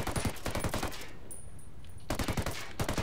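Rapid automatic gunfire in a competitive ranked video game match: two fast bursts of rattling shots, one at the start and one near the end, separated by a short quiet gap, close and sharp with no talking over it.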